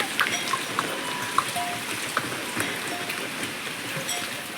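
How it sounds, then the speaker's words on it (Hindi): Steady rain patters on a mountain road in a hilly village during the monsoon, a continuous soft hiss with scattered drop ticks, fairly close and without talk. "अब ये 3री बार लग गई है बारिश"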